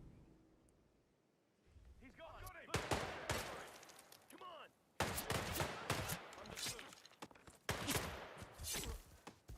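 Sharp, loud video-game gunshots burst out in several separate volleys with short gaps between them, some echoing, after a quiet opening stretch.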